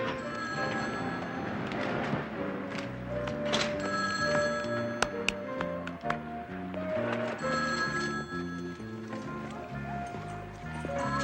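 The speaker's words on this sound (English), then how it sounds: "Excuse me, I think that's my phone." A telephone bell rings in a 1970s detective drama scene, heard under a busy music score with rhythmic low notes, fairly loud and continuous.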